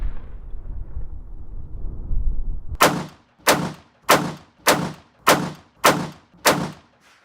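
Rifle gunshots from a modern sporting rifle fired during a shooting drill. After a stretch of low rumbling, seven sharp, loud shots ring out evenly spaced about half a second apart, each with a brief echoing tail.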